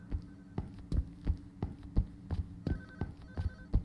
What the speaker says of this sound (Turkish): Bu odada çalıyor abi bu telefon